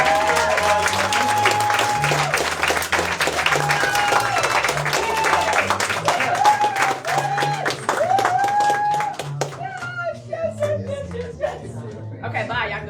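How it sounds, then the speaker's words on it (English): At a storytelling event, an audience claps while people laugh and chatter, and a voice talks over the noise. The applause thins out toward the end as the talking carries on. "give them a round of applause"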